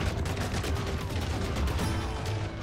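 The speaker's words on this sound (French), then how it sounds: "Qui me tire dessus" Dense, continuous gunfire rattles through a Wild West shootout in Call of Juarez Gunslinger, loud and close. Shots blur into a steady barrage with no pause.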